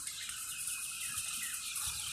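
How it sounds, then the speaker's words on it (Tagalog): A crowd of many birds calls together in a dense, high chirping chorus, faint and continuous with no talking. "Ang daming ibon."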